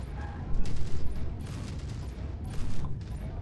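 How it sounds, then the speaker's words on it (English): Incoming missile fire in the video game MechWarrior 5: Mercenaries, a rumbling barrage of impacts and blasts with mechanical clanks, several bursts swelling and fading over a few seconds. "Incoming missiles."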